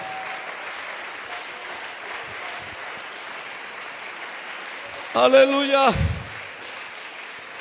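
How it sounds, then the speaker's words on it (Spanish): A church congregation applauds steadily during a morning service, a sustained wash of clapping heard from across the room, before a voice briefly calls out over it near the end. "Habrá un aplauso para Él en esta mañana."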